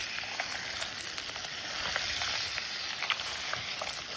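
Food sizzles in a pan over a camp stove at a wild campsite in the woods, a steady close crackling hiss with faint spits and pops, heard alone without talk.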